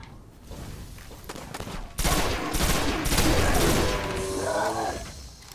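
Rapid bursts of gunfire from the video game Destiny crackle in dense, loud volleys that swell after a soft start and continue for several seconds, with a faint voice underneath.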